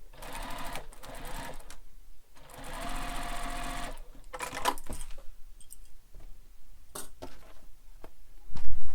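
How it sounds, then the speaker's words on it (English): A sewing machine backstitches a bag lining in short close bursts of rapid whirring stitches, with pauses and fabric handling between runs and a heavier thump near the end. "Backstitch at start and stop."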